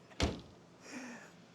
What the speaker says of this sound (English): Door popper works.